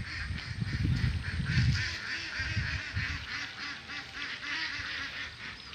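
A flock of ducks quacks repeatedly, the calls overlapping in a steady chatter that carries on throughout, with low rumbling underneath.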